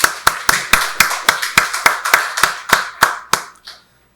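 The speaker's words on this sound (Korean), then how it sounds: "박수로 하나님께 영광 돌리겠습니다." A church congregation at a Sunday worship service applauds in unison, about a dozen sharp, evenly spaced claps over four seconds, loud and close, ending in silence.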